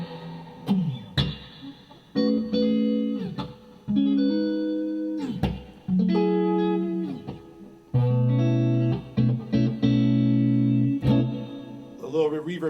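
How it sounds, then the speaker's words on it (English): Electric guitar played through a Holy Grail pedal on its spring reverb setting, a run of clean chords and single-note phrases ringing out with a splashy, decaying reverb tail, loud and up close. "here is the Holy Grail pedal set to spring with my reverb"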